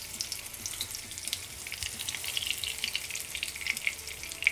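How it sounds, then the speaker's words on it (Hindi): Masala-coated eggplant slices fry in a little hot oil over low heat, giving a faint, even sizzle with light crackles throughout and no voices. "तेल गर्म होने के बाद हमने जो मसाला लगा के रखा था बैंगन, वो हम रखेंगे और हम कम आंच पे पकाएंगे।"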